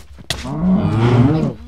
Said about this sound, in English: Hello, cow. Cow behind you.